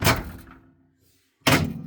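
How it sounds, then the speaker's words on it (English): A microwave door is pulled open by its handle. Two sharp thunks, each with a brief rattle, are separated by a short quiet gap. "or you can pull it by the handle,"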